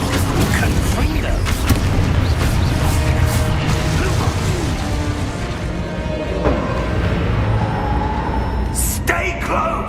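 Spell explosions from the Confringo fire spell in Hogwarts Legacy, loud booming blasts and crashing impacts over dense game noise, with voices shouting.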